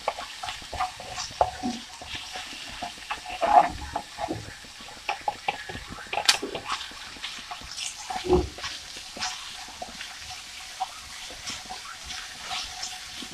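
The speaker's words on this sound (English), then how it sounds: "We're going to let this saute until it begins to sweat." Ingredients sauté in a pan for a Jamaican-style vegetable chop suey, giving a soft steady sizzle with frequent clatters and scrapes of stirring, close and moderately loud with no talking.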